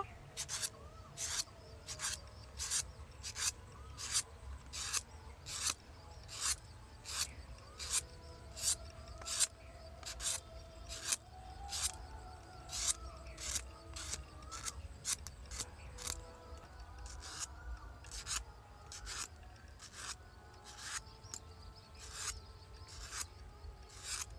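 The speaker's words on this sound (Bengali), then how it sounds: "আমি বাকি পটলগুলো ছাড়িয়ে নেব" Pointed gourds (potol) being peeled with a knife, a steady run of short, crisp scraping strokes repeating quickly and evenly close by, with no talking.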